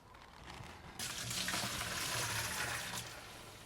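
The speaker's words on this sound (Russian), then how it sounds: "Лейку наполняю водой доверху." Tap water pours steadily into a 12-litre garden watering can, a hissing splash that swells louder after the first second and stays even before easing slightly at the end, with no talking.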